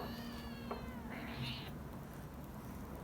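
A cat meows a couple of times over steady low background noise, the calls fairly faint and drawn out.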